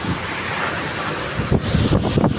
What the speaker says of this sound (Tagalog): Napakalakas ng hangin at ulan dito.